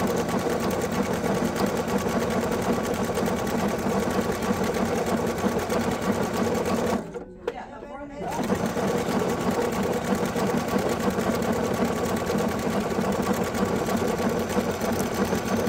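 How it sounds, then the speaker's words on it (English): A sewing machine with lateral feed stitches steadily and close up, its continuous motor whir pausing briefly midway before resuming at the same even pace. "So not only do you sew forwards and backwards, you can sew side to side on this one."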